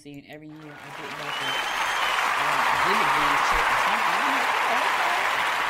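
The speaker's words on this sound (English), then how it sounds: "So I wanted to give them a round of applause for the great work that they do." Applause from an audience swells after a man's brief speech and settles into a steady, sustained wash of clapping, with his voice still faintly carrying underneath.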